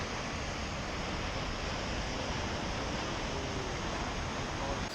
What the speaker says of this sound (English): You guys see all the water coming down there? It's flowing pretty good.